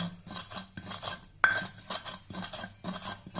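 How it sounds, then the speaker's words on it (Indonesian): Spices being pounded fine in a mortar for a yellow rice dish: steady, rhythmic thuds and scraping knocks, roughly one or two per second, close and fairly quiet with no talking. "Nah, kita tumbuknya sampai halus ya."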